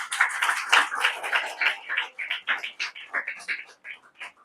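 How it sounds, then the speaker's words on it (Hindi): A Palm Sunday Mass congregation claps loudly in a dense, rhythmic patter of many hands that gradually thins and softens toward the end. "जोरदार ताली बजाएंगे।"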